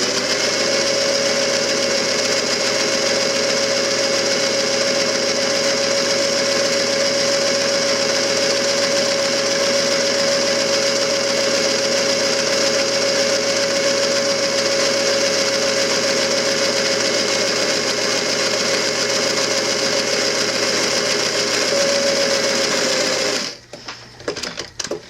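Sewing machine running steadily as fabric layers are guided through for accurate seams, a close, continuous high-pitched motor whir with rapid needle chatter that stops abruptly near the end.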